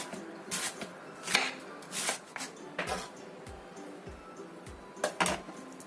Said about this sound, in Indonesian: bisa menggunakan bawang merah aja, sekitar 3 butir. Kita potong kecil-kecil.